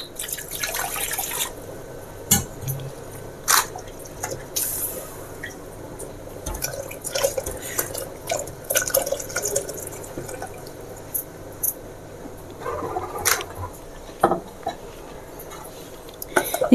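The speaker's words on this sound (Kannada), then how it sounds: "ಅದಕ್ಕೆ ಒಂಚೂರು ನೀರು ಹಾಕೋತಾ ಇದ್ದೀನಿ" Water is poured into a cooking pot of jeera pepper rasam, in short splashing bursts, with clinks of utensils and dishes between them and some talk underneath.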